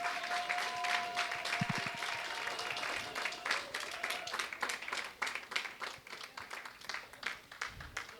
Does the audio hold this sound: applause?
yes